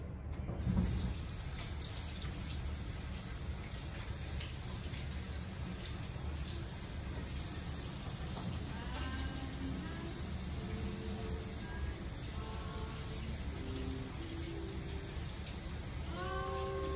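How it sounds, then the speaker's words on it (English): Water runs steadily from a tap into a sink for handwashing, a continuous broadband splashing rush that stays even throughout, with a brief knock near the start and faint higher tones later. "let's wash our hands"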